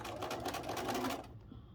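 A sewing machine stitches small quilt star pieces with a quarter-inch seam, a steady, close, rapid whirring run that stops abruptly near the end.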